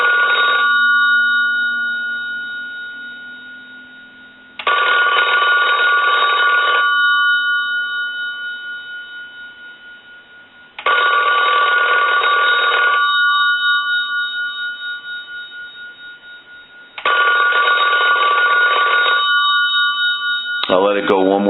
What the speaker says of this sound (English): So we'll go ahead and ring the telephone.